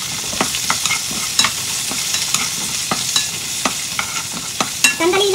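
Asparagus stir-fried and tossed in a hot pan, a steady sizzle broken by repeated scraping clicks of the utensil against the metal, close and fairly loud, with no one talking.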